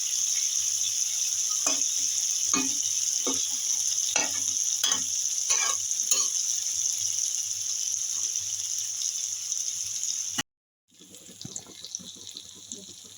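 Masala being stirred as it fries in a pan for a small-fish curry, a steady bright sizzle with repeated scraping strokes of a spatula, close, then a cut to quieter clatter and bubbling.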